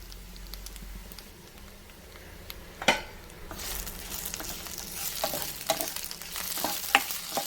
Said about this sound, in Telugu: వేగుతున్నాయండి, ఇంకొక 2 నిమిషాలు పడుతుంది.